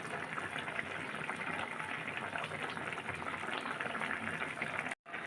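Fish curry with coriander leaves and cumin powder bubbles steadily in a pot, a dense, even simmering hiss and gurgle that holds close and constant before cutting out briefly near the end.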